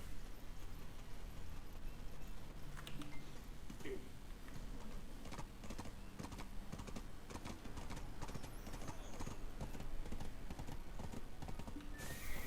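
Hooves clip-clop in a steady, even rhythm over a faint background, the pace holding constant throughout, from a horse in the video game Black Desert Online.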